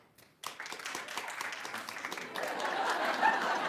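A crowd claps together, starting abruptly and swelling into steady, sustained applause that grows slightly louder toward the end.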